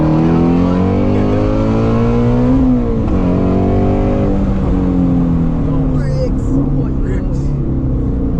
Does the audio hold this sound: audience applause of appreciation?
no